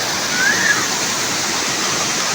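A rocky waterfall at Chalavara in Palakkad district, Kerala, gives a steady, close, rushing roar of falling water that stays even throughout, with a brief faint voice-like tone early on.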